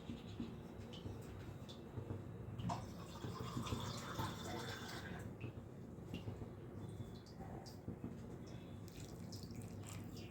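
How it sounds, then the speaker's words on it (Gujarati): Water is poured into a cooking pan while masala Maggi noodles are made in a home kitchen: a faint, steady splashing pour of a few seconds over low room noise. "આ પાણી નાખો."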